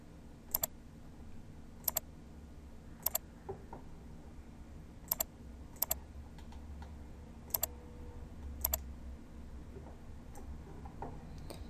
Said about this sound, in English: Then we type down the information that has to go there.